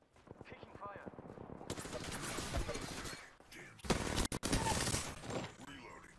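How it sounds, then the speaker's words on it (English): Rapid gunfire bursts and shattering impacts crackle through a ranked match of a shooter video game, loud and dense, with a player's voice speaking underneath. "Taking fire."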